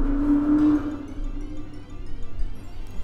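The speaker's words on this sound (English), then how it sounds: "Someone feels the need to rev their engine outside." A car engine revving outdoors, a low steady engine drone that swells and then eases, heard at moderate distance with no voices.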